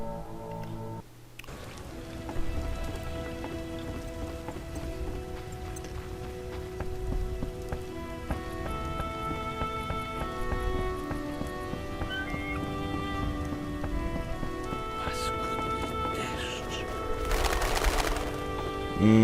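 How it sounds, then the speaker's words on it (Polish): Rain patters steadily in The Witcher video game in a swamp area, a constant wash of drops under sustained game music tones, continuous throughout with a brief dip near the start. "Paskudny deszcz."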